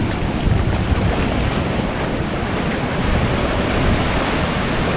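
Sea waves wash continuously onto a beach in Pangasinan in the afternoon, a dense, steady roar of surf mixed with heavy wind buffeting the microphone, with no voices.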